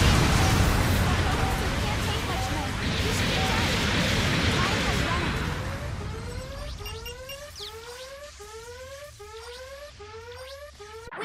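Supporting fire explosions in the game Mobile Suit Gundam Battle Operation 2, a dense roaring rumble of blasts that slowly fades, followed by a repeating series of rising electronic sweeping tones.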